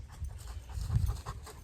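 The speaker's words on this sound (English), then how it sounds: "Like I said, I did bring my dog." A dog pants close by while out scouting for deer season, quick rhythmic breaths repeating steadily throughout, alone with no talking.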